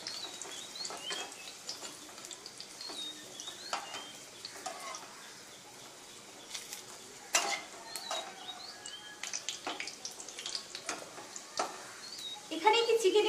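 A chicken basket fries in a pan with soft crackling sizzle, broken by scattered taps and stirring clatter at close range, fairly quiet throughout.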